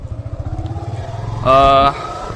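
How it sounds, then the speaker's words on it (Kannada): A motorcycle ridden by Akul along a narrow road during a driving test, a close, pulsing engine putter under talk, with a short tonal horn-like blast midway. "ಈಗ ಅಕುಲ್ ಬಿಡ್ತಿದ್ದಾನೆ ಗಾಡಿಯನ್ನು"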